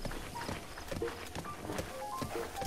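Hooves of a horse being ridden in Zelda: Breath of the Wild, a steady clip-clop gait with distinct, evenly spaced thuds over faint game ambience and soft tones.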